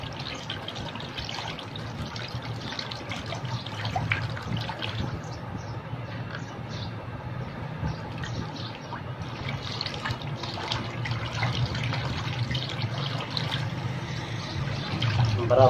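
Cold water trickles and pours into a homemade burn-wound cream mixture being stirred by hand, a continuous soft liquid wash with faint dribbling throughout.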